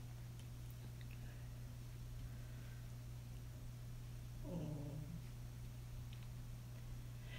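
A dog gives a brief, faint whimper partway through, crying to be let out, heard over a steady low hum without any talking.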